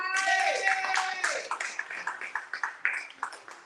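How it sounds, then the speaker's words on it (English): A Kwanza gathering's audience gives Brother Edgar a round of applause: after a brief sustained tone, steady rhythmic clapping carries on, fairly close, with no talk over it. "Give Brother Edgar another round of applause"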